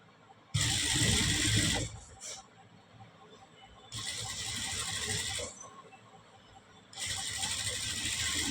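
Sewing machine stitching a churidar shoulder seam, three loud whirring runs of rapid needle stitching separated by short pauses, close up with faint mechanical clicks between.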